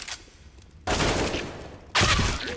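Dense bursts of automatic gunfire from a professional Counter-Strike match, two heavy sustained volleys following a quieter stretch, with a caster's voice faintly present.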